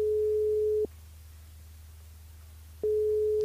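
A steady electronic telephone line tone during a radio call-in show, heard as two clear sustained bursts separated by a short gap of near silence.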